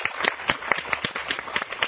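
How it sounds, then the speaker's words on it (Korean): A television studio audience applauds, with brisk, rhythmic clapping at close range that holds steady through a brief burst. "박수 한번 드릴까요?"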